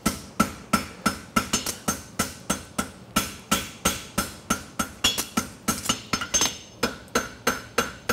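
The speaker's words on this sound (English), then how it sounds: "Shaping the back of the shoe." A concave egg bar horseshoe is hammered on an anvil in steady, rapid ringing blows, close and loud, with short pauses between bursts and no talking.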